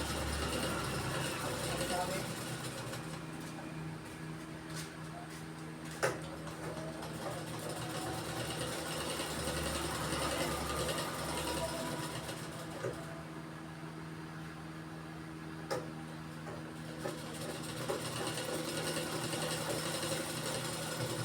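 Sewing machine stitching a cut chemise, a steady continuous mechanical whir with a low motor hum and faint clicking running throughout, close and fairly loud with no pauses.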